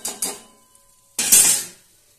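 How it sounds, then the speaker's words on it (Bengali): A spatula scrapes burnt bits of fried residue from an oiled frying pan while bitter gourd fritters are being made: two quick metallic scrapes, a pause, then a longer, louder scrape fading out, close up with no talking. "এগুলোকে আমি একটা ছাঁচড়ির সাহায্যে ছাঁচড়িটাকে উঠিয়ে দিচ্ছি"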